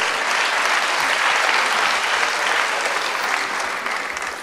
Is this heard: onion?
no